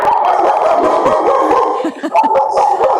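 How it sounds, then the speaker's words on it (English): Dogs barking and yipping in a live outdoor encounter, a busy run of short yelps and whimpers heard alone, fairly close and loud, with a brief lull midway before the barking picks up again. "I can see that there's some sort of dog encounter going on behind you"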